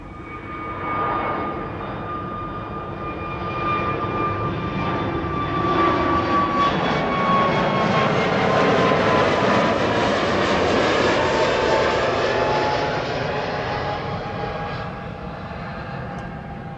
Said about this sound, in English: EasyJet is taking off next